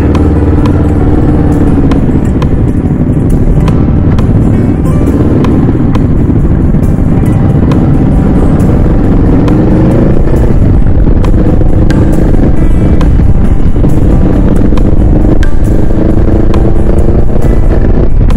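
A motorcycle on a group ride rumbles loudly and continuously along the road, with engine drone mixed with heavy wind buffeting and rattling clatter throughout.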